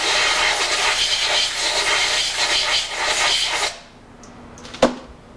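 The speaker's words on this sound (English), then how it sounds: "We clean all the stuff off of it with a little carburetor cleaner." Carburetor cleaner sprays from an aerosol can onto a Harley-Davidson Shovelhead engine part in a workshop, a loud steady hiss for several seconds that then cuts off, followed by a sharp small clack.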